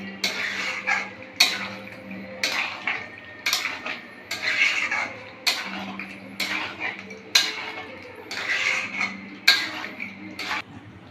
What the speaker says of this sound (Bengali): দেখুন ভালো করে মিক্স করে দিচ্ছি